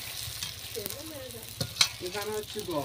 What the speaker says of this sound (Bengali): এখানে এই ফুচকা ভেজে ভেজে রাখা হচ্ছে